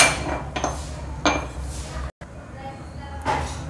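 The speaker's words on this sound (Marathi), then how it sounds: "आता आपण कांदा फोडून घेऊ." Onion smashed by hand in a home kitchen while serving okra curry and flatbread: a few sharp crunching knocks with clatter, close and fairly loud, with no talk.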